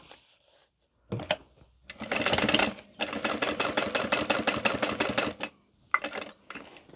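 A home sewing machine stitches fabric while sewing a garment past a zipper, its needle running in steady rapid bursts with brief pauses between runs, close and clear with no talk.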